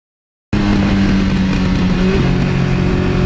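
A 1982 Suzuki GS1100E motorcycle engine cuts in loud and close after half a second of silence, then holds a steady open-throttle roar with a slight shift in pitch near the end.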